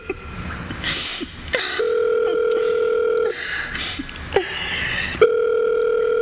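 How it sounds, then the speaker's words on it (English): A telephone in the old radio drama Sorry, Wrong Number, with loud repeated electronic ringing and dial-tone bursts broken by short clicks and pauses. "Oh, answer the phone."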